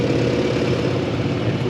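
An Oliver 88 diesel pulling tractor idles at a tractor pull, a steady, loud, close rumbling chug with no voices over it.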